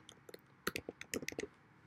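Fingers typing a folder name on a computer keyboard: a quick, quiet, uneven run of light key clicks, with a few bunched strokes near the middle, and no talk.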